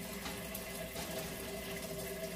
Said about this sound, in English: go ahead and crank on the pure water filter. Put some water in there.